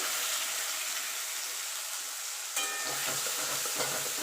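A prepared spice paste with turmeric and Kashmiri chilli powder sizzles loudly in hot oil for an aloo-cauliflower curry, a steady close hiss that sharpens as stirring begins partway through.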